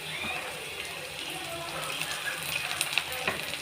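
Green chillies and curry leaves sizzle steadily in hot frying oil while a prawn gravy is being cooked, giving a continuous close crackle with small pops throughout.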